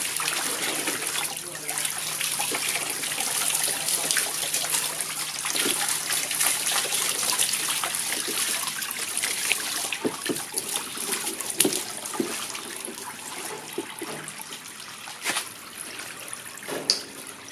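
Water runs and trickles steadily into a tub as a dog is bathed in a jacuzzi-style tub with flea and tick shampoo, with faint splashes and small knocks throughout.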